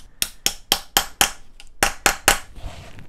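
Sharp hammer strikes on tools while working on a Suzuki Katana motorcycle bolts, eight loud metallic taps in a steady rhythm with a brief pause midway, close by and alone.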